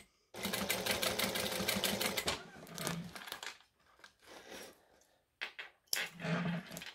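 A sewing machine bastes fabric along an edge, running in a steady loud burst for about two seconds, then softer handling noises and a second short run near the end.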